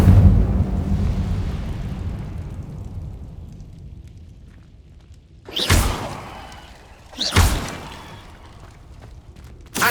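Incendio fire spell cast in Hogwarts Legacy, with two sharp, loud whooshing bursts a couple of seconds apart, each flaring and fading, following a low rumbling decay, with a third burst starting right at the end.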